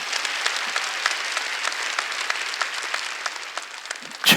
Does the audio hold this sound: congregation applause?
yes